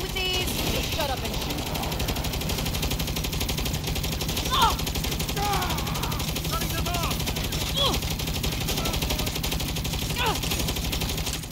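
Gunfire in a Saints Row shootout, with dense rapid shots running steadily through the whole stretch under a busy game soundtrack, plus scattered sharper reports and occasional voice bits.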